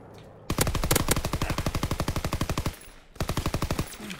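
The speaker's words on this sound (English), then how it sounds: "Strafing run inbound." Rapid machine gun fire from an aircraft strafing run in a WW2 video game: one long burst of evenly spaced, loud shots, a brief gap, then a second shorter burst.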